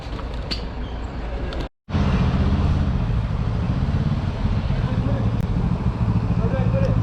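Benelli TRK700 motorcycle exhaust rumbling steadily while riding, a loud continuous engine drone with a brief dropout near the start, no talking.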